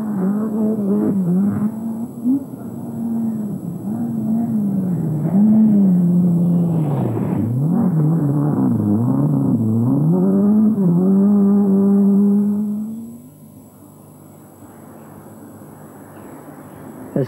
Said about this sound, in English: working hard to keep the Peugeot on the high-speed tracks of Yorkshire